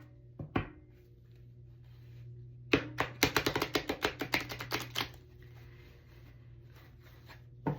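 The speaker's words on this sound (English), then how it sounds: "I'm gonna shuffle it one more time" A rapid burst of crisp riffling clicks as a fairly new tarot deck is shuffled, lasting about two seconds, with a couple of isolated taps before and after over a steady low hum.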